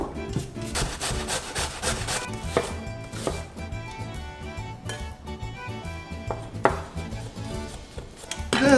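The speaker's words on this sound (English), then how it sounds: "Peel the carrots." Carrots being peeled for a bolognese ragù, a run of rhythmic scraping strokes close up, brisk and repeated with short pauses, alone without talk.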